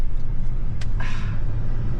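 A 2024 GMC Sierra 3500 Denali pickup with a 5-inch lift and 10-speed transmission runs at wide open throttle, a deep steady rumble heard from inside the cab with a brief hiss partway through.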